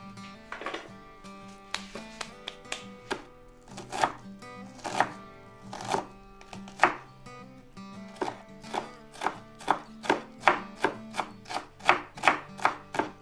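Knife finely chopping onions on a board for hamburgers, close and crisp, with irregular taps that speed up into a quick, steady rhythm toward the end.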